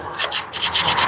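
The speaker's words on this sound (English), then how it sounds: "I think like a sanding disc or something" A sanding disc on a drill grinding against thin layers of mortar, a harsh abrasive rasp that pulses in short uneven strokes, close and loud, with no talking.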